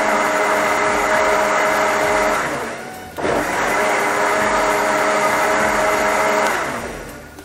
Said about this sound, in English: So once again, we start blending just one more time for about 10 seconds.